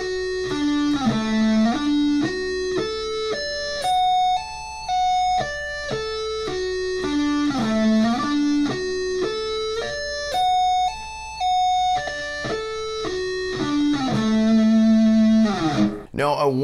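Electric guitar sweep-picks an extended arpeggio pattern, ascending and then reversing, as a fluid, steady run of clean, bright notes stepping up and down in repeated shapes, ending with an abrupt strum.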